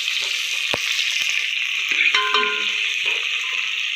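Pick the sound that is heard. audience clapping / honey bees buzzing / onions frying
onions frying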